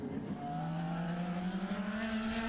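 An IndyCar race car braking hard into turn seven at Sonoma during qualifying. The engine note drops, then settles into a steady, slightly rising buzzing drone with strong harmonics, loud and close, with no voices.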